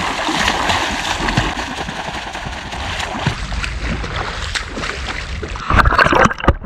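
Steady, loud splashing and churning water from swimming in ice-cold water on a snowy moor at about one degree, continuous throughout and growing more turbulent toward the end.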